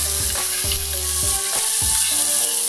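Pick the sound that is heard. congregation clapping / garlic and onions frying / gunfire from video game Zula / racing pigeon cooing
garlic and onions frying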